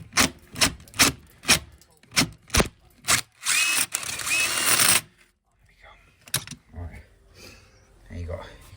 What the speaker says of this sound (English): So 20mm spray bit. Just going to open that hole up a little bit